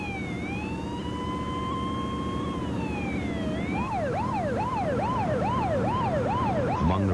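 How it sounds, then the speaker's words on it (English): An ambulance siren wails in long rising and falling tones, then switches to a rapid yelping warble, loud and continuous throughout. "As the ambulance headed for the hospital, they radioed to the advanced life support unit"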